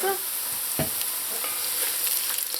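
Bitter melon fries in a pot with a steady crackling sizzle while a utensil stirs and turns it, adding soft scraping knocks over the constant frying hiss.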